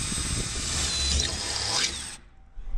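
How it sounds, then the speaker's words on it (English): A power drill whirs steadily as it bores through foam at the corners, a continuous high-pitched drone that stops abruptly near the end. "I want to go ahead and drill the corners out for each one of my corners"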